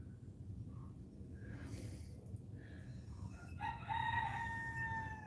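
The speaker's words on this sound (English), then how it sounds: "The one you hear right now is a Polish hen" A Polish chicken rooster crows loudly and close by, a drawn-out strained call rising over a quiet background.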